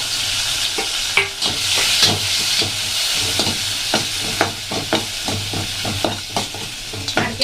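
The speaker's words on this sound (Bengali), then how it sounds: "তেলের মধ্যে দিয়ে একটু সামান্য ভেজে নেবো" Grated coconut sizzles and hisses as it fries in hot oil while a utensil scrapes and stirs in a steady series of sharp clicks, close up with no talking.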